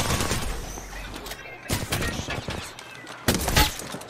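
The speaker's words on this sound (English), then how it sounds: "The enemy's shooting at me." Bursts of gunfire in the Apex Legends video game, rapid automatic volleys in two loud clusters separated by brief lulls, with scattered shots and impacts between them.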